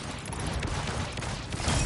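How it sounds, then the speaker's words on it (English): Video game fireworks burst in a dense, continuous crackling barrage with sharp pops layered over a rumbling low end, loud and close throughout. "Time for some fireworks."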